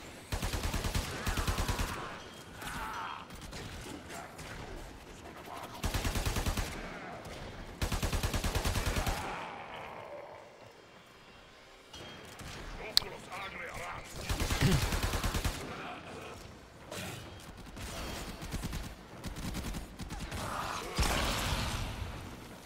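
Bursts of video game gunfire in Warframe come in several loud volleys with short gaps, rattling and fairly close, and someone talks between and over the shots.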